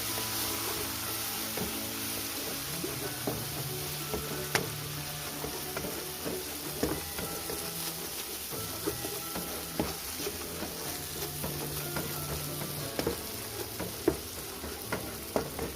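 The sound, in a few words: stirring chicken curry frying in a pan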